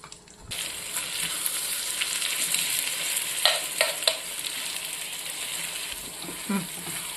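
Chana dal and a chilli frying in a hot oil tempering, a steady close sizzle with a few sharp clicks and spoon taps against the pan partway through.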